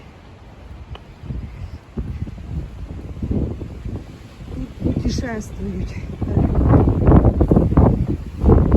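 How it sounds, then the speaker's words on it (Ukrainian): Gusting wind buffets the microphone with a low rumble while a person talks over it, the noise growing stronger toward the end. "сьогодні просто вітер така погода"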